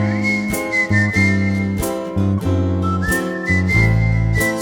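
Peter whistles a bright, steady tune alone, with sustained notes and occasional slides, loud and close, alongside a regular accompanying beat, with no talking.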